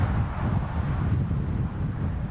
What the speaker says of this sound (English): The wind is no joke.